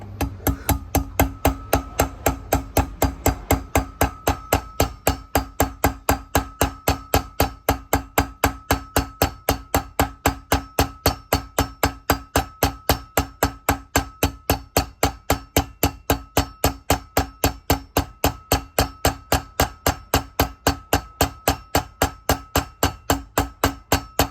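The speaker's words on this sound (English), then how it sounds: "same thing, we'll get it started with a hammer" A hammer taps a wheel bearing into a motorcycle wheel in quick, evenly spaced, sharp strikes that repeat for the whole stretch, close and alone.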